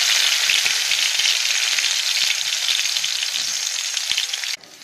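Finely chopped garlic frying in two spoons of oil in a pot as the base for tomato sauce; a loud, dense, continuous sizzle with faint stirring clicks, cutting off abruptly near the end.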